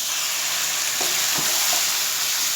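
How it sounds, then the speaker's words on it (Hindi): Chicken bhuna masala frying hard over a high flame, a loud, dense, close sizzle with a few stirring scrapes over the hiss. "इसको मैं 5 मिनट तक अच्छी तरह हाई फ्लेम पे फ्राई करूँगा।"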